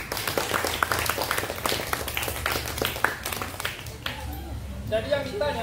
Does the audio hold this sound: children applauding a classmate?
yes